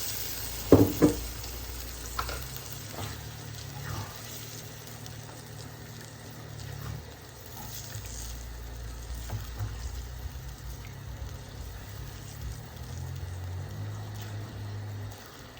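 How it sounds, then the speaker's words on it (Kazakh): Rice cooking in water in a pan over low heat and being stirred: a soft, continuous sizzle and bubbling with a few sharp clinks of a utensil at the start, and no voices. "Жақсылап араластырып, жай отта күрішімізді піскенше бұқтырамыз."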